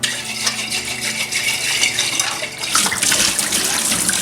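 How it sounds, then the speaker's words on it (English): Water sloshes and rattles inside a glass carboy as it is shaken, a loud, continuous churning close by that surges louder toward the end. "I'm going to take and shake my water again"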